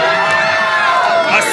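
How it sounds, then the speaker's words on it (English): An indie wrestling crowd, mostly children, shouts and jeers at a wrestler climbing the ropes, a loud continuous mix of high-pitched yells and cheering. "being taunted mercilessly by the crowd, mostly children"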